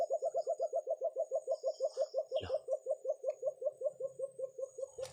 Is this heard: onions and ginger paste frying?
no